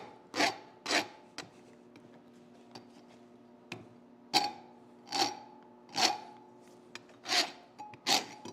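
A rasp dragged across hot metal at a forge gives about nine rough, scraping strokes in an uneven rhythm, close and fairly loud, with a faint steady hum underneath.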